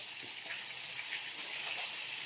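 Food sizzles steadily in a frying pan, a constant bright crackling hiss at moderate distance with no talking over it.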